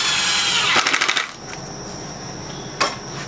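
A power drill drives a screw to fasten a Les Paul guitar neck into a wooden luthier jig: a short burst of buzzing whir with rattling pulses, then quiet and a brief clack near the end.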